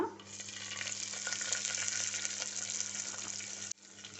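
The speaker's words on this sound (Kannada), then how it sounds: "ಈರುಳ್ಳಿ ಚೆನ್ನಾಗಿ ಫ್ರೈ ಆಗಬೇಕು, ಗೋಲ್ಡನ್ ಬ್ರೌನ್ ಬರಬೇಕು" One large chopped onion fries in hot oil for Bangalore-style chicken donne biryani, a loud, dense, steady sizzle close by that cuts off sharply just before the end.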